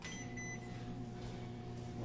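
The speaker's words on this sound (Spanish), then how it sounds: "Voy a llevarla al horno de microondas ya que está fría, para que se caliente un poquito." A microwave oven hums steadily and quietly while it warms half a cup of cold whole milk in a kitchen, a low continuous drone with a faint tone and no talking.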